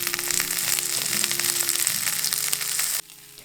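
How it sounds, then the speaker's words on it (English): Urad dal, chana dal and spices hitting hot oil for a tempering, a loud, dense crackling sizzle with rapid popping that runs for about three seconds and then drops abruptly to a faint hiss. "Using urad dal and chana dal first, followed by mustard seeds, cumin, Asafoetida, green chillies, curry leaves and whole red chillies too"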